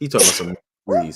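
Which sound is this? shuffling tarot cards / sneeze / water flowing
sneeze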